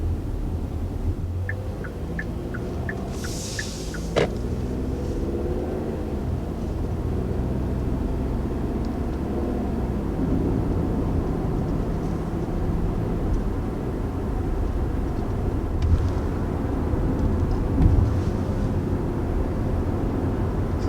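A 2020 Kia Sportage cruising down a country road, heard from inside as a steady low road and engine drone with tyre rumble, continuous and even throughout.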